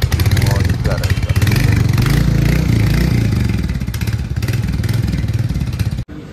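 A new Royal Enfield Hunter 350 motorcycle idles up close with a loud, rapid, steady thumping exhaust beat that softens slightly before cutting off near the end.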